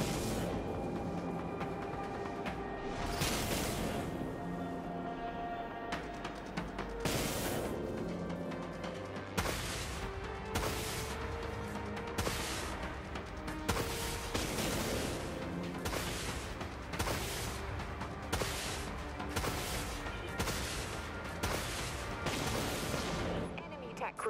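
Vulture missiles launch in the Dreadnought video game as a rapid series of loud whooshing blasts and booms, repeating steadily over a dense, continuous battle soundscape.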